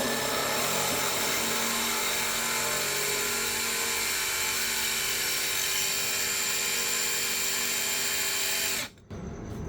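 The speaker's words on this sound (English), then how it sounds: "All the way through, you gotta drill it slowly." A continuous high-pitched power drill with a diamond drill bit whines steadily at close range, drilling slowly and grinding without pause before cutting off abruptly near the end.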